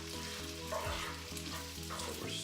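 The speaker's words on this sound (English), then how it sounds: "So we're stirring this." Shrimp scampi sizzling and frying in a pan while being stirred, steady close crackle with scraping stir strokes, fairly quiet overall, no talking.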